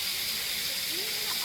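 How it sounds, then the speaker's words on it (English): Fish sizzles on a grill outdoors beside a waterfall, a steady close hiss with no break, joined by a faint voice. "It's sizzle on the grill there."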